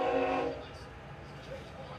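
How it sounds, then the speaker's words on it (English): A train horn blares loud and steady for about half a second, then gives way to a low, distant rumble. "gotta pause just a sec while this train horn is going on"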